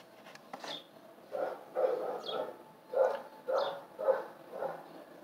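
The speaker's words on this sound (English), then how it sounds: "Hopefully you guys can't hear the fucking dogs barking." Several dogs bark in repeated short bursts at a moderate distance, the barks irregular and overlapping with occasional yips, fairly faint against a quiet background.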